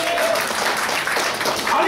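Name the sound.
congregation clapping hands during church worship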